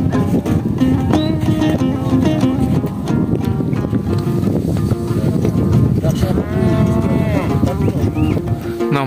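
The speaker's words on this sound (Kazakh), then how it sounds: "Мал дейсиз, малды ушинтип багып атабыз." Cattle low and moo repeatedly on a high mountain summer pasture, loud and close among several animals, with hoof clatter, movement and people talking nearby.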